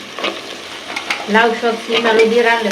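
Spices, potato and beans frying in a pan for a Bengali dish, a steady close sizzle with stirring scrapes that grow louder and busier partway through, no talk.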